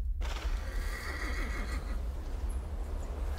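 A horse whinnies in The Thaumaturge, an early 20th-century setting, with a wavering neigh and light hoof clops over steady ambient background noise.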